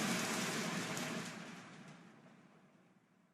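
Rain falls in a soft hiss that fades gradually away, a brief rain sound effect used in an audiobook.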